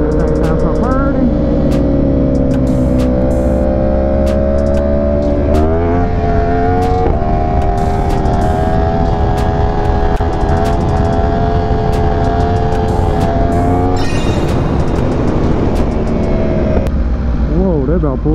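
An Aprilia RSV4 motorcycle engine revs loud and close while riding, its pitch climbing through the gears with a sustained wail, and a rider talks over the roar.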